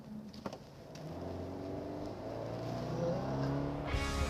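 Subaru Forester with a CVT under full throttle, its engine droning steadily and rising slightly in pitch, continuous and fairly close with no talk.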